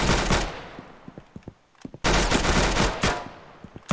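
Loud gunfire from a gun in Roblox Arsenal, with long roaring bursts of rapid fire, then a pause holding a few scattered single shots, then another sustained burst close up.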